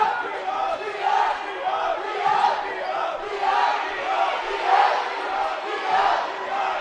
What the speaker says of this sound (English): Both crowds trying to cheer their team on and loud here in Ballard Gymnasium.